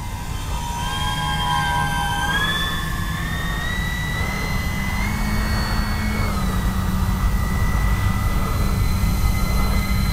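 An E-flite Beechcraft D-18 RC model plane passes close and slow, its twin electric motors giving a steady whine that rises and shifts in pitch as it flies by, loud and alone.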